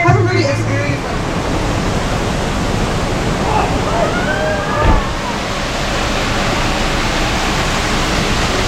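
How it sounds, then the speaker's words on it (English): Concord Waterfall in Grenada pours in a steady, loud broadband roar that fills the whole scene, with a faint voice and a brief thump partway through. "We are here at Concord Waterfall in Grenada."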